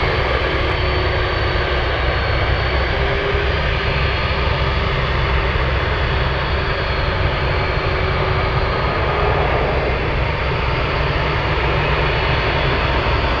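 A jet airliner takes off from runway 33 at Anchorage airport as a broad, steady engine roar that stays loud and constant throughout, with no talk over it.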